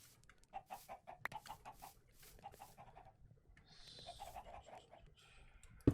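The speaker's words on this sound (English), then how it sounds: "That's where our chickens are gonna sit." Minecraft chickens cluck in a series of short, repeated bursts at close range, with soft in-game footsteps and block sounds in the background and no talking.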